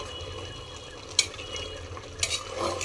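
Meat being stir-fried (kosha) in a pan: a continuous low sizzle with two sharp metallic scrapes of a spatula standing out clearly against it.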